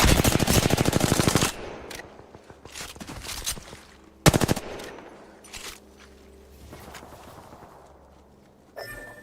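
Smart bullet fired in the video game Apex Legends: a loud rapid burst of automatic shots at the start, then a single sharp blast, followed by scattered quieter impacts and footsteps.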